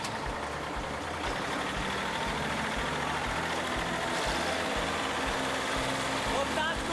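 A small tractor on a family farm runs steadily with a low, rumbling idle throughout, close by and continuous, while people talk over the engine noise.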